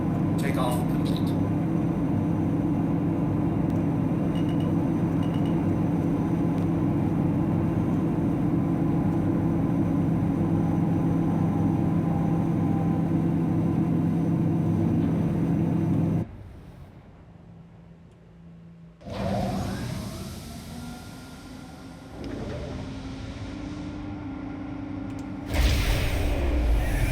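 The RSI Mantis spaceship in Star Citizen hums with a steady low engine drone after takeoff, then cuts out abruptly before returning in shifting bursts, while a person talks over it.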